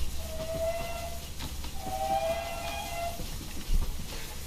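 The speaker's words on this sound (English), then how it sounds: "Using the two whistles together to create a two-tone." A steam locomotive's two whistles sounded together as a two-tone call in Train Simulator 2021, giving a short hoot, then a longer sustained blast, over a low rumbling train background.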